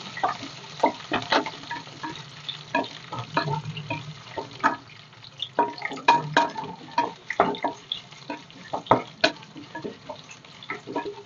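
Garlic, curry leaves and green chillies fry in oil for a masala rice dish, giving a soft sizzle under frequent sharp spatula clicks and scrapes against the pan, close and uneven in rhythm.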